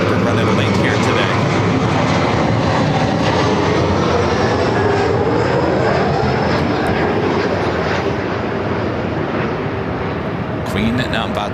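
A Korean Air Airbus A380 at Los Angeles airport, a loud continuous jet engine roar holding steady and close, with a voice talking over it.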